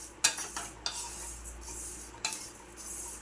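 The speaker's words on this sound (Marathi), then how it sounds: "आता फक्त भाजणी चालू आहे आपली." A spoon or spatula stirring masala spices and fennel seeds as they dry-roast in a pan over low heat, with soft scraping and a few sharp clinks against the metal, quiet and close.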